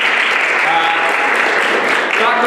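An audience at a Ukrainian Cup quarter-final draw applauds in welcome of the national team delegation, producing dense, loud, continuous clapping throughout with a few voices mixed in.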